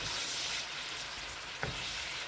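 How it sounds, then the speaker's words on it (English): Ravioli sautéing in a pan give a steady, close sizzle throughout, with a single brief utensil knock partway through; no one speaks. "we're gonna saute this like that, like that"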